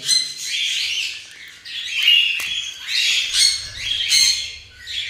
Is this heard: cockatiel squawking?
yes